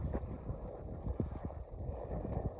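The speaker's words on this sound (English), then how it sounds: "Sorry about the wind, but it's a beautiful day." Gusty wind buffets the microphone outdoors on a garden walk, a low rumbling roar with irregular thumps and surges, fairly faint and continuous, with no voices.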